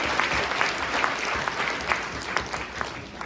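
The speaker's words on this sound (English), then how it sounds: "Can we just give ourselves a round of applause for giving?" Audience at a fundraising gala applauding, steady many-handed clapping with a few sharper individual claps popping out, moderately loud and evenly sustained.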